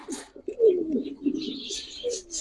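Giribaz pigeons coo in a loft, a soft rolling burble repeating close by with a few higher chirps, no voices.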